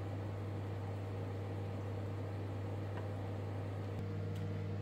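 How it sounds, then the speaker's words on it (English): A steady low electric hum of a microwave oven heating a vegan pizza, constant throughout with faint background noise and no voices. "This one's going in the microwave."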